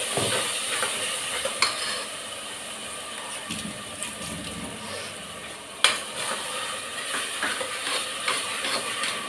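A ground ginger, garlic, fennel and dried chilli masala is sautéed with onions in a pan, giving a steady close sizzle with repeated scraping stirs and occasional clanks of the spoon.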